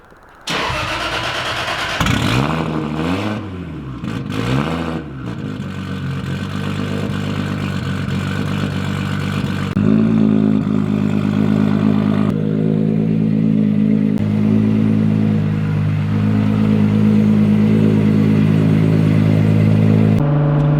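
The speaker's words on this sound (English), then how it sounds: "this car is loud" A tuned 800 hp Toyota Supra engine cranks and fires up, then revs loudly with a deep, rough growl before settling into a heavy, rumbling idle.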